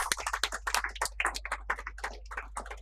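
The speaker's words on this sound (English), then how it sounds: "Let's compensate this with our roaring round of applause." An audience at an awards ceremony for a nutraceuticals summit claps steadily, a dense patter of many hands at moderate volume, with no talk over it.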